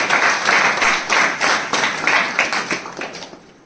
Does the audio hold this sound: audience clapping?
yes